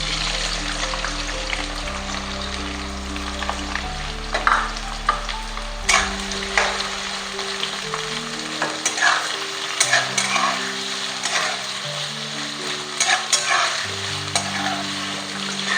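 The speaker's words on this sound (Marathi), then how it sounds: "त्यासाठी कढईमध्ये तेल गरम करायला ठेवलं होतं मी, ते गरम झाले. मी त्यामध्ये कांदा टाकून घेते." Onions fry in hot oil in a kadhai, a steady close sizzle broken by scraping stirs at irregular intervals, with soft background music underneath.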